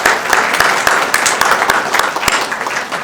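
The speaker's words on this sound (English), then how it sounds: "So let's give Lisa a round of applause." An audience applauds steadily at a Civil War history talk, a dense patter of many hands clapping close by for about three seconds with no speech over it.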